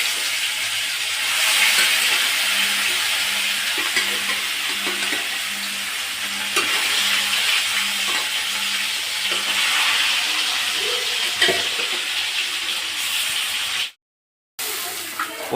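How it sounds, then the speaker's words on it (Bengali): Fish frying in hot oil in a pan, a steady loud sizzle with occasional stirring scrapes, freshly caught from a village pond, continuing throughout before a brief dropout near the end. "এবার মাছ ভাজা চলছে, মাছগুলো ভেজে নিই"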